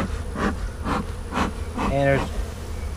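Honey bees buzzing at an opened hive that has filled with bees from a caught swarm, a steady close hum with rhythmic rasping sounds of hive equipment and a brief voice.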